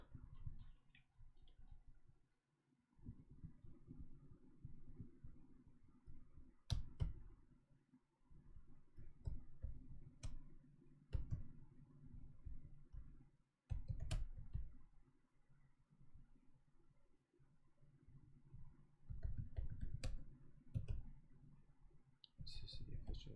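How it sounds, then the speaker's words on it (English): Clicks and taps of typing on a keyboard come in irregular bursts with short pauses, quiet and close, as someone works away at the keys. "Allow me to type."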